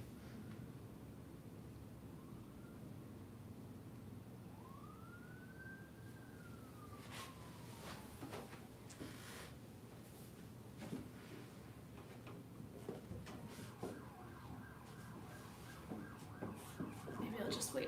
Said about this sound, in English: Maybe I'll just wait for that ambulance to go by.